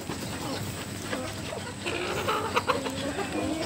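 Hens cluck on a poultry farm, soft repeated clucks over a busy barn background, with faint talk nearby.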